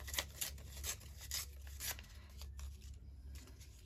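Scissors trim paper for a small ephemera trifold, a series of close, crisp snipping strokes in a quick, uneven rhythm, fairly quiet with no talk.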